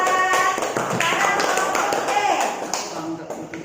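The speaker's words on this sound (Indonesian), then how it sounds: "Tepuk tangan yang kelompok A." Classroom students clap together for a group during a lesson, a brief burst of rhythmic hand claps mixed with talking voices, fairly close and loud.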